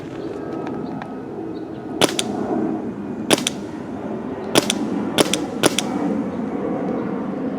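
A Planet Eclipse Emek MG100 magfed paintball marker firing old gray paintballs outdoors, five sharp pops in a loose sequence, two of them in a quick pair, over a constant background rumble with faint bird-like chirps.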